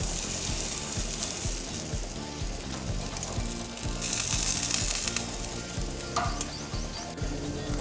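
Chicken wings sizzle on the top rack of a gas grill at 400 degrees, a steady dense crackle and hiss that stays loud and close throughout, with no talking.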